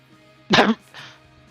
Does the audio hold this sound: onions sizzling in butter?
no